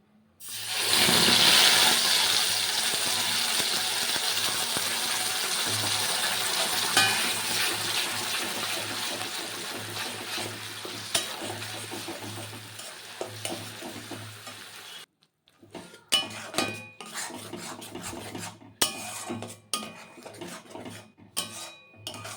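Young flat beans for sheem vorta are dropped into hot oil in a pan, giving a strong sizzle and frying hiss, then clinking utensil stirs and scrapes with pauses as they keep frying.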